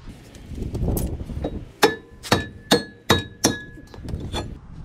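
A hammer strikes a stuck brake rotor on a 2019 Toyota Sienna: five sharp, ringing metallic blows land about half a second apart, loud and close, with quiet workshop noise around them.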